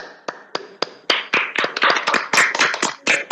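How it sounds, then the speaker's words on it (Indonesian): A classroom of students claps for a group after its science experiment report; a few isolated claps at first, then quickly building into a brisk, irregular burst of close-up clapping. "Kita tepuk tangan untuk kelompok 1."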